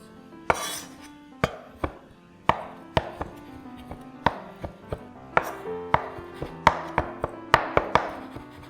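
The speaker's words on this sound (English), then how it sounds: "Drain the black beans and roughly chop them up as well." Knife chopping drained black beans on a cutting board: a steady run of sharp, close knocks, irregularly spaced and growing quicker toward the end, with no talking.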